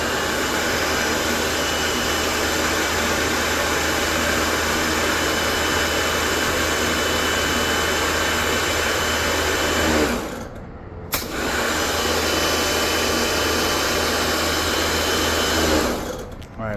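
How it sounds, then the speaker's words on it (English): A Karcher K2 pressure washer running without its nozzle gives a loud, steady motor whine and water rush that cuts out briefly near the end, then resumes. "So I turned it on, and now I'm going to run it without the nozzle real quick."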